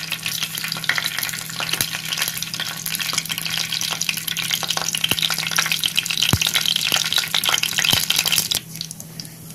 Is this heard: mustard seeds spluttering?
yes